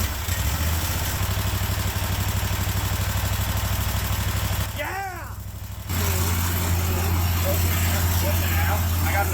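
A Cub Cadet 1050 hydrostatic lawn tractor engine idles steadily close by, its low, even throb running nearly throughout and briefly dropping off for a moment before resuming. Someone speaks over it.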